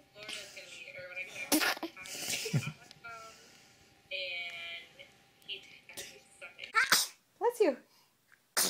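Babies sneeze several times in quick bursts amid a home setting, with adult voices talking and reacting between the sneezes.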